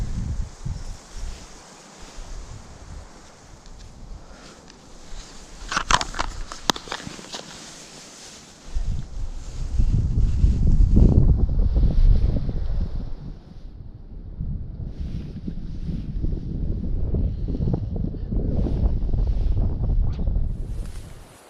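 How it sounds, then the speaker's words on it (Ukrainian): Gusty side wind beside a wild river during fishing buffets the microphone in loud rumbling bursts, broken by a brief rustle and a couple of sharp clicks early on. "Трошки заважає вітер цей боковий."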